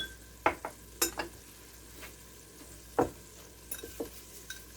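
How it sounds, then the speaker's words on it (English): Half an onion sautéing in a pan for copycat zuppa toscana: a soft, steady sizzle broken by several sharp scraping clicks as it is stirred, close and with no talking. "just going to go ahead and throw in our onions. And I'm just going to saute these for just a bit."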